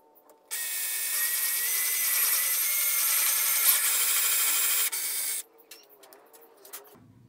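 A Japanese saw flush-cuts protruding wooden dowels level with a stool seat, making a steady, close rasping stroke that runs for several seconds and then stops. Faint handling noises follow.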